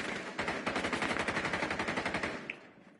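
Rapid automatic gunfire in Rainbow Six Siege, a sustained burst of evenly spaced shots for about two seconds, loud and close, then a brief metallic click as it stops.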